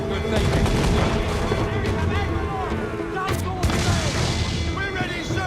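In Assassin's Creed 4 Black Flag, a sailing ship's cannons fire broadside in a naval battle, giving repeated heavy booms and crackling blasts under a busy mix of shouting crew and game sound.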